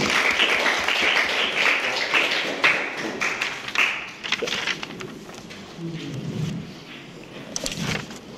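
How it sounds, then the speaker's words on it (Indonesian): Applause from a classroom audience for a student, a dense patter of claps fading into scattered taps, with faint voices and shuffling toward the end. "Aplaus buat beliau, terima kasih."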